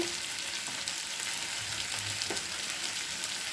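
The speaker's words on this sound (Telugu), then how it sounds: "మష్రూమ్ ముక్కలు వేసి వేయించుకుందామండి" Mushroom pieces frying in a clay pot for mushroom biryani, a faint steady sizzle with an occasional soft stir of a wooden ladle.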